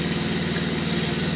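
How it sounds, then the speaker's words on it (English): A truck engine idles steadily and loudly close by, with a constant low rumble and no voices over it. "here is the last time this truck ever started"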